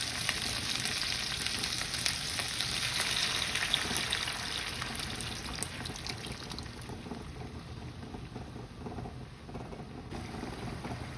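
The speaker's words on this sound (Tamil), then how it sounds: "மீன் போட்ட பிறகு நான் புளி கரைச்சி வைக்கிறேன்." A Tamil-style trevally (paarai) fish curry cooks in its pan after tamarind water is added, giving a steady, continuous sizzle and bubbling hiss that stays close and even throughout, with no talking.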